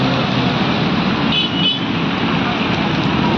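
Jammed road traffic in torrential rain at Trimbak, Nashik, forms a dense, steady wash of rain and engines, with a brief horn toot rising through it partway along.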